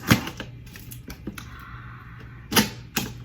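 A cardboard box of makeup is cut open with a blade, giving close, scattered scratchy cuts and tearing rasps, with sharper louder rips near the end.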